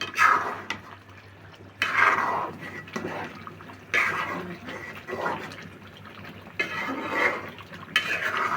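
A lid lifted off a pot of chicken and potato rezala, giving metallic clanks and scrapes in irregular bursts, with bubbling and kitchen clatter in between.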